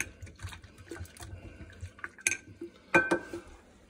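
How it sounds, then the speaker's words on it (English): Room-temperature water is poured into a kombucha batch in a kitchen, with a faint trickle followed by a sharp clink of glass or metal near the end. "we are going to top it off with some room temp water"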